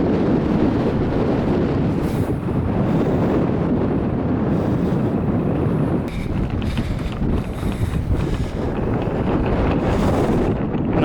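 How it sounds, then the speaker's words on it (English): Strong wind buffeting the microphone on an open hilltop during a bike ride, a loud continuous roaring rumble that fills the whole stretch without letup. "Always windy"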